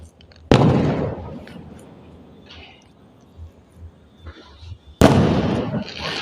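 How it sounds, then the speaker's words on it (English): Two sharp fireworks blasts about four seconds apart, each bursting loudly and then rumbling away, with faint crackles and pops in between. "Holy shit, there is so much fireworks going on right now."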